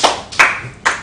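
Three sharp hand claps, crisp and close, spaced roughly evenly, with a brief room echo after each and no talk over them.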